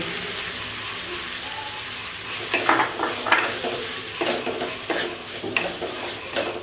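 Soybean chunks hit a hot pan, and a quiet sizzle swells into louder crackling frying while a spoon stirs them with bursts of scraping and clatter through the second half. No one speaks.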